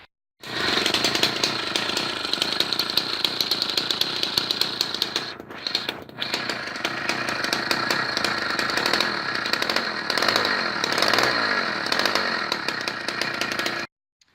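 An 80cc motorized bicycle engine running in a garage, a loud, close, rattling two-stroke buzz held steadily for about thirteen seconds with a brief dip in revs midway before it cuts off.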